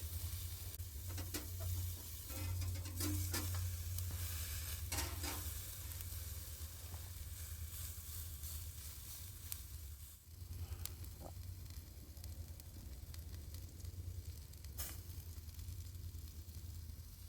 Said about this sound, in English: you can just smell it cooking that steak